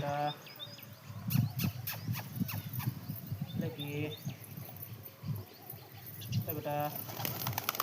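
Pigeons, one of them black, feed from a person's hand, giving soft low coos and fluttering wing flaps close by, while a person talks over them throughout.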